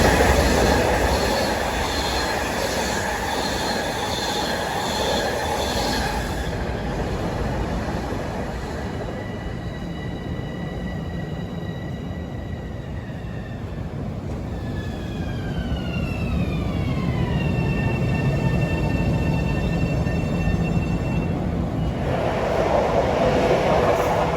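An equipment train bound from Ronkonkoma to West Side Yard overtakes a Babylon–New York passenger train at Forest Hills: a sustained loud rumble of railcars, with high wheel squeals gliding and bending in pitch midway, then easing.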